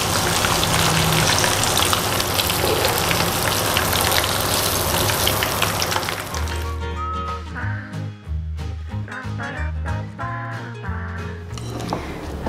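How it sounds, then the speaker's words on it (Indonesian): Lemongrass chicken fries in hot oil until crispy, giving a dense, crackling sizzle for about six seconds. Music then takes over. "Kita goreng sampai benar-benar garing,"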